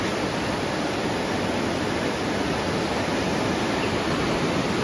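River water rushes loudly and steadily beneath a hanging bridge near Munnar, a dense, continuous roar filling the whole stretch with no voices above it.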